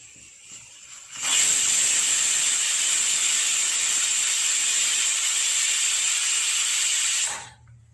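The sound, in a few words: pressure cooker whistling while cooking amla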